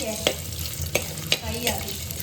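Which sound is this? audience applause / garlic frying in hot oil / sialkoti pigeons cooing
garlic frying in hot oil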